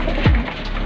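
A single short, low pigeon coo sounds close by against a faint background hiss.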